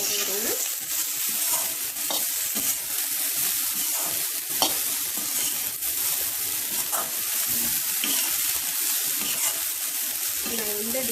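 Boiled black chana stirred into frying onions in a pan, a continuous loud sizzle broken by repeated scraping strokes of the spoon, close up and without talk.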